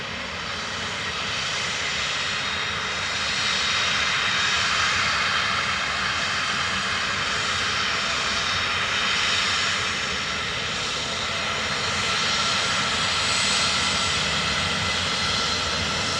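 A Ryanair jet roars steadily on approach to runway 28 left at Dublin Airport, its engine noise broad and sustained, swelling slightly and fading as it passes, with no voices.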